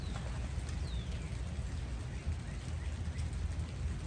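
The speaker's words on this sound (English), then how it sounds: "It is raining, starting to rain" Light rain begins falling around a barn, a faint, even patter heard from under cover with no talking.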